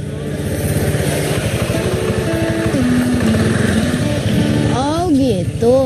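A motorcycle taxi's light engine buzzes close and steady as it pulls up. A voice speaks briefly over the engine near the end.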